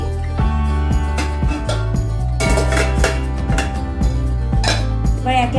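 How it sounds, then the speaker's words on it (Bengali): Vegetables going one by one into a pot of water in a home kitchen, with repeated clinks and knocks of pieces against the metal pot over a steady background, close and fairly loud. "এবার একে একে সবজিগুলো দিয়ে দেবো।"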